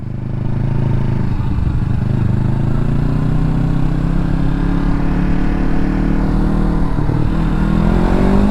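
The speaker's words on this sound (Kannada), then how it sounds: "ಹಾಂ, ಹವರ್ ಬೋಟ್ ಇದು. ಆ 2 ಫ್ಯಾನ್ ಇದೆ ನೋಡು, ಅದೇ ಇಂಜಿನ್ನು." A navy hovercraft with two large fans drones steadily nearby, a loud continuous engine roar with a slowly rising tone, heard at a beach with no speech over it.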